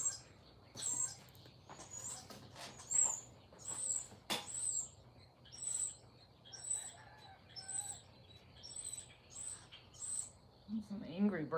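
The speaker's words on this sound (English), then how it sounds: "Some angry birdies." Small birds chirp in repeated high, quick calls scattered throughout, fairly near but quiet over a low background, with a brief voice near the end.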